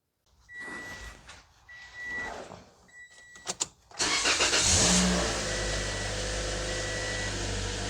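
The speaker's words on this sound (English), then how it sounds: "I'm just going to start the engine." A 2017 Toyota Corolla 1.8 with ghost misfires cranks with a few sharp clicks, then catches and settles into a steady idle that continues to the end.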